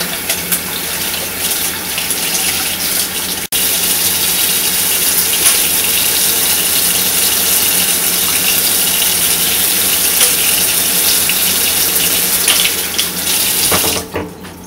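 A kitchen tap runs steadily into the sink while an egg is peeled beneath it, a continuous close hiss and splash of water with a brief interruption early on, cutting off just before the end.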